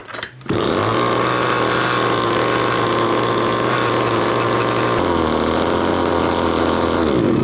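A small gas engine on a fifth-scale RC model starts and runs at a high, buzzing idle with a slight misfire, loud and close, with a slight drop in pitch partway through.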